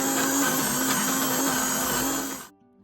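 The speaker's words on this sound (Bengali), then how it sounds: "আমার কাছে যেহেতু হ্যান্ড ব্লেন্ডারটা আছে, তো আমি এটা দিয়ে একটু মিক্সড করে নিচ্ছি" A hand blender whirs loud and close as it mixes a batter of flour and water, a steady high buzzing drone for about two and a half seconds before it winds down and stops.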